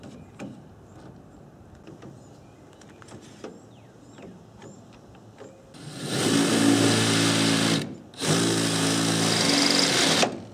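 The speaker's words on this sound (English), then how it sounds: "Now that the top is cut off, we can proceed to drilling out the bottom." A power drill bores out the bottom of a cut-open Koni Yellow strut insert from an MR2 Spyder, whirring loud and steady in two long bursts with a short pause between, after quieter workshop clatter.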